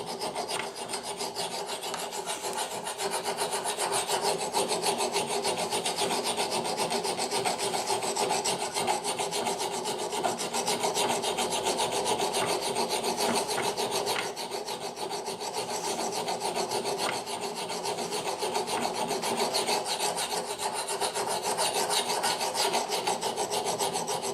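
A hand file rasps steadily along the edge of a steel axe head, a continuous close-up scraping with quick repeated strokes and no pauses.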